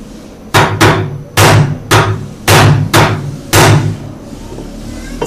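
A hammer drives a chisel against a rusted nut on a Samsung top-load washing machine gearbox, giving seven loud, sharp metallic strikes at uneven intervals, close and alone with no talk.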